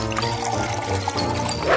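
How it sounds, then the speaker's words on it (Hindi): Drink poured into a glass, a short close stream of liquid splashing and filling for under two seconds. "चलो इसे इस ग्लास में डालती हूँ।"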